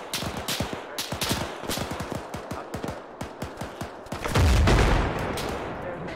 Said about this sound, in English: It's mortars, mortars, mortars.